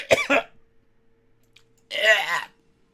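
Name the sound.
loud cough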